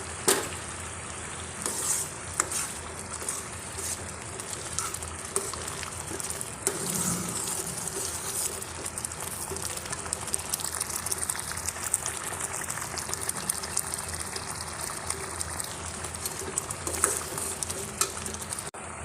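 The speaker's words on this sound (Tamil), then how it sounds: "இப்போ ரெண்டு நிமிஷம் ஆயிடுச்சு நல்லா கொதி வந்துடுச்சு" Pirandai tamarind curry with ground coconut paste bubbles at a steady simmer in a pot, a continuous soft hiss and burble with faint pops, heard alone without talk.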